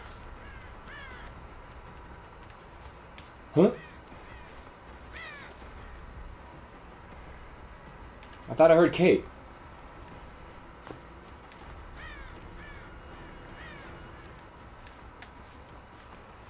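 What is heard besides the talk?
crow cawing in video game Dead by Daylight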